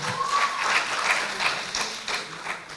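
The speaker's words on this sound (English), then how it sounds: "Please, round of applause once more." An audience at the ILA Conference, a university debate event, breaks into steady applause, a dense wash of clapping that holds throughout with some faint voices beneath it.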